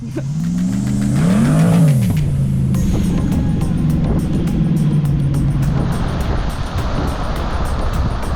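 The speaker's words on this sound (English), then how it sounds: "There were kids out there too, ripping around on their own fun-size OHVs, like tiny little off-road pros." Off-road vehicles on beach sand dunes, small kid-size OHVs among them, roar past with a loud revving engine that rises and falls as one speeds by, followed by a steady droning motor and wind noise.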